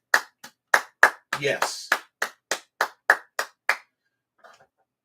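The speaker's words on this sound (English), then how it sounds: "let's give an applause to our offensive line" One person clapping for an NFL team's offensive line, about a dozen sharp, close hand claps in a quick, slightly uneven rhythm, with a short spoken word partway through, then quiet.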